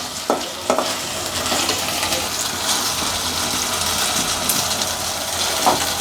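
Peas and tomatoes cooking in a pot for a cauliflower and red lentil dish, giving a steady, fairly loud broadband sizzle and bubbling with a few brief clinks, no voices.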